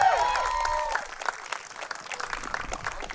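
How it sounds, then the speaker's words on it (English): Guests at a wedding give a round of applause for the parents during a speech. A brief tonal sound opens the clip, then soft, steady clapping runs underneath to the end. "Big round of applause"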